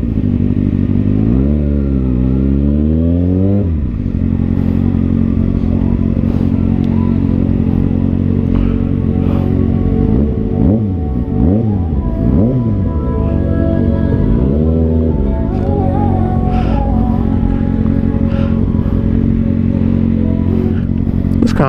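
A Kawasaki ZX6R Ninja 636 sport bike engine revs while cruising city streets. Loud, close engine drone rises and falls through repeated gear changes and throttle sweeps, with wind noise over it.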